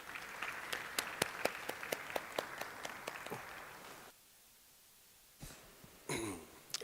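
A short stretch of scattered clapping, a small conference audience applauding a panel for a few seconds before it stops; brief shuffling and noise follow.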